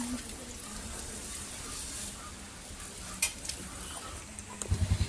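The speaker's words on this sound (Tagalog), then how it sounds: "Atin na pong hahaluin ang hahaluin para mix na mix po ang ating pansit habab at ang ating pansit bihon." Pancit habhab and pancit bihon noodles being stirred together in a pan, a steady soft scraping and sizzling texture with a few louder clatters near the end.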